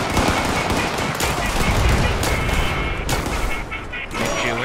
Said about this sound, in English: Oh, that's grenade